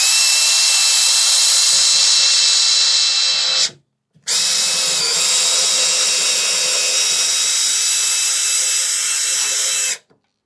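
A Makita cordless drill runs loud and close in two long continuous bursts, stopping briefly for a moment in between before spinning up again, with no talking.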